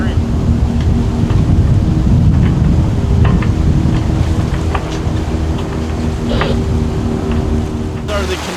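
Sailboat crossing the Gulf Stream toward Bimini in a light 10-knot wind, with a steady rushing wash of water and wind buffeting the microphone, a low continuous roar throughout.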